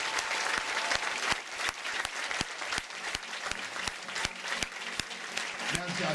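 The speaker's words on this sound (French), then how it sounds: "On applaudit le Seigneur." A church congregation applauding the Lord, fast steady rhythmic clapping from many hands, fairly close and sustained, with voices mixed in underneath.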